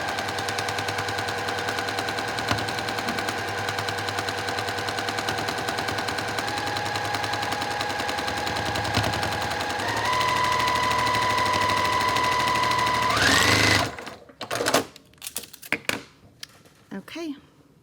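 A sewing machine stitches a quilt block in one long, steady, close run for about thirteen seconds, then stops and gives way to scattered handling clicks and taps, with a voice talking.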